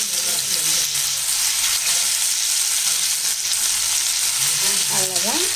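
Masala-coated fish fries in hot oil in a pan, a steady loud sizzle and crackle throughout, with occasional stirring near the end and no talking.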